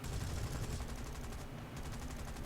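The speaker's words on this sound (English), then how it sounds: "You can hear that old Oldsmobile 37mm cannon going off there." A P-39's 37mm aircraft cannon in the game War Thunder fires rapid, dense thuds continuously in a rough rhythm, loud and booming, with no talking.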